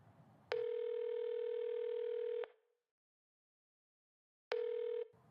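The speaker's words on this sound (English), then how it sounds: "I tried Lonnie's phone." A telephone ringing tone sounds on a call: one long steady tone of about two seconds, a pause of silence, then a second shorter tone, clear and alone.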